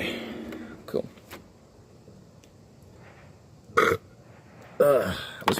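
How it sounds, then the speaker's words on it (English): Two loud, close burps stand out against a quiet outdoor background, spaced about a second apart, with faint softer sounds before them. "At least my burps are doing good."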